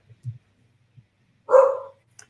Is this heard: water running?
no